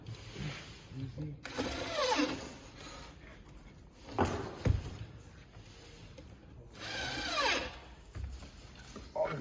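A power driver sinks screws into the sides of a Koville cabinetry drawer box in repeated whirring bursts with rising and falling pitch. Wood creaks and clunks come between the bursts, and some speech is heard.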